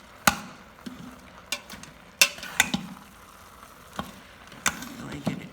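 A spoon stirs and breaks up a pot of chili, giving several sharp scrapes and knocks at irregular intervals over a low, soft background, close and moderately loud with no talking.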